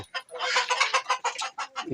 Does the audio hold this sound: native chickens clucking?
yes